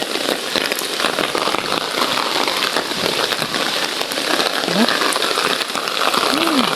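Steady rain pours down in a dense, hissing wash, close and continuous, with a faint murmur briefly audible.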